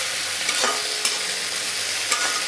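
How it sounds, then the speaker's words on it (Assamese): Onions frying over high gas flame in a pan with cumin and panch phoron, a dense continuous sizzle with a few sharp ladle taps on the pan, close and steady, no speech. "এতিয়া গেছৰ ফ্লেমটো মই হাই কৰি দিছোঁ আৰু এইখিনি অকণমান ৰংচোৱা হ'লৈকে ভাজি ল'ম পিঁয়াজখিনি।"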